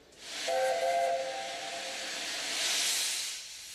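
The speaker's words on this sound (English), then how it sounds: "she boarded a steam train, the Union of South Africa, specially brought in for the occasion." Steam locomotive Union of South Africa sounds a loud, sustained whistle with bright harmonic tones, backed by a continuous rushing hiss of escaping steam that swells again near the end.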